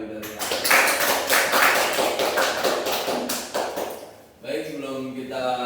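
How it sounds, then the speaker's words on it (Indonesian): A classroom of students claps together in a dense, lively burst of applause lasting several seconds. It fades as a voice begins speaking. "Boleh tepuk tangan bagi kita."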